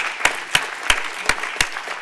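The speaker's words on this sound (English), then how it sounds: "Could we have one more round of applause, really, for just an incredible day?" Sparse applause at the close of a panel discussion: five sharp, evenly spaced hand claps over faint room noise.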